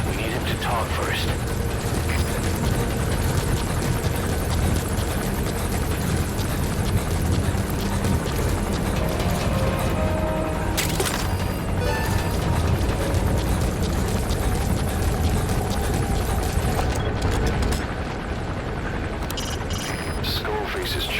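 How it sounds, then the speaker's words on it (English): A helicopter in Metal Gear Solid V: The Phantom Pain gives a continuous, loud rotor roar that fills the whole scene, with scattered bursts that sound like distant gunfire and a brief sharp crackle partway through. "Skullface's chopper is there."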